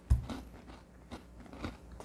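Crunchy, light butter cookie bitten and chewed close up, a sharp first crunch followed by several softer crackling chews, quiet and without talk.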